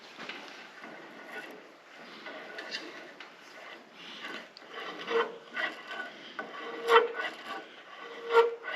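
A too-tight steering gear on a John Deere B tractor grinding and rasping as it turns, an uneven scraping, rubbing noise that comes and goes in faint bursts, close by.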